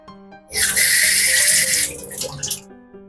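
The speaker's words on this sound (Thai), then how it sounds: "แผ่นที่สองให้เพื่อนจุ่มน้ำนะครับ" A sheet dipped into water in a sink or basin, part of a homemade closet deodorizing method: a loud, steady rush of running, splashing water for about a second and a half, easing into softer sloshes and drips.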